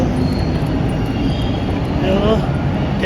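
A Toronto TTC green line subway train rumbles with a loud, continuous roar and faint wheel squeal, close up as a rider heads into the subway.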